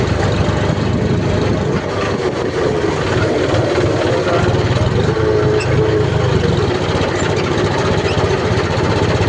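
A heavy tractor engine drones steadily at close range, a low continuous rumble with no breaks.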